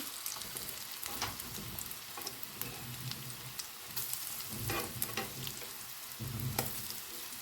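Pumpkin fritters sizzling in hot oil in a frying pan, a soft continuous crackle and spatter with occasional louder bursts, fairly quiet and without talk.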